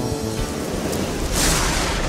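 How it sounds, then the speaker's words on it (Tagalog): Steady heavy rain pours down over rice fields in a village after days of rainfall, a dense continuous hiss with a slight swell near the end and no voices. "5 araw nang umuulan sa Baryo Matikas."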